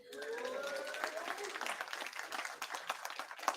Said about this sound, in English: Clap it again.